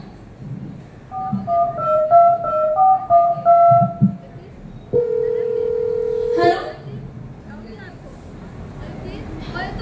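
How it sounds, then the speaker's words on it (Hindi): A short run of electronic telephone keypad tones plays in quick succession as someone dials an ambulance, followed by a steady held tone, with background voices and noise around it. "चलो रुको, मैं एम्बुलेंस को फोन करता हूँ"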